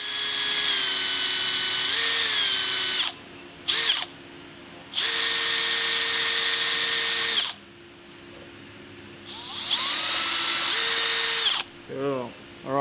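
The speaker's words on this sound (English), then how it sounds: "It helps this stuff for the next drill bit to pass through the hole and go down." A power drill bores through a rusty, dirt-caked hole in several loud whining bursts separated by short pauses, with ratcheting clicks near the end.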